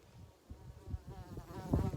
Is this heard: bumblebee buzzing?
yes